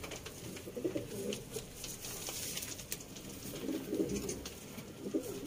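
Sialkoti high flyer pigeons cooing softly in a pair, low repeated throaty coos with faint fluttering and shuffling, fairly quiet and close.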